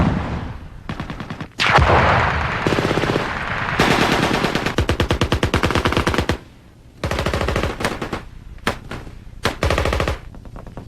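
US Army Rangers fire loud, close bursts of automatic gunfire during a live fire exercise, with rapid machine-gun volleys broken by short pauses and scattered single shots, alone without talk.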